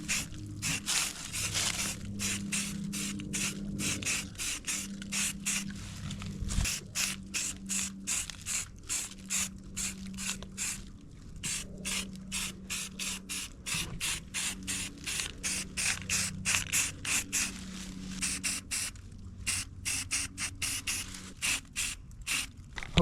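A spray can of primer hisses in a string of short rapid bursts as a thin first coat goes on a metal truck camper frame mount, with rattling and mechanical clicks mixed in over the whole stretch.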